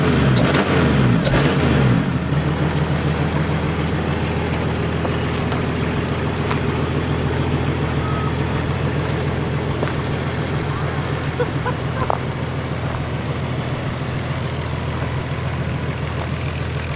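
A custom 8x8 Jeep Grand Cherokee engine runs close by, opening with a burst of revving and then settling into a steady, loud, droning idle throughout.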